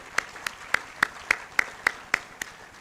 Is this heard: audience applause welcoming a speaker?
yes